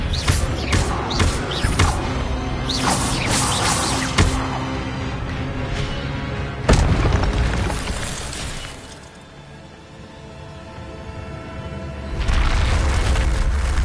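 Spell blasts in the Hogwarts Legacy video game burst out in a loud run of crackling booms and shattering impacts, dipping briefly into quieter rumble before another heavy surge, with no talking over it.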